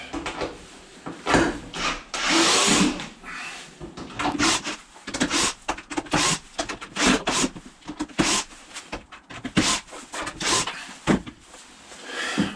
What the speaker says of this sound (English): So you can just go straight in with the screwdriver attachment.